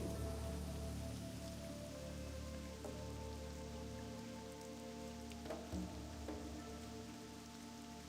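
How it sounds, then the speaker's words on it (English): Steady rain falling in Stranglethorn Vale, a jungle zone in World of Warcraft, a dense, even wash of droplets on surfaces with a few faint distinct taps, loud and unbroken throughout with no voices. "It's raining in Stranglethorn"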